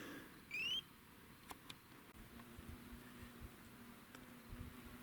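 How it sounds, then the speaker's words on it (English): Faint, steady buzzing of large bees close by on lupin flowers in a quiet outdoor canyon setting, with a brief high chirp near the start. "Guess the big bees like this lupin too."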